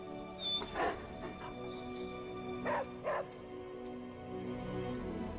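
Dog in the video game Marvel's Midnight Suns gives a few soft yips and whimpering barks, close and moderately loud, spaced apart over a steady game background hum.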